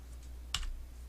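A single crisp keystroke on a computer keyboard while editing values in Blender 3D software: one short, fairly close click against a quiet room hum.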